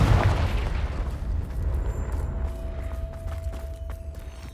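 Confringo explosive spell in Hogwarts Legacy on PC: one loud, booming blast at the start, followed by a long rumbling decay and a faint lingering tone.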